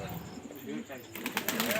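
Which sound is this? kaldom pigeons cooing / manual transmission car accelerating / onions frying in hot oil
kaldom pigeons cooing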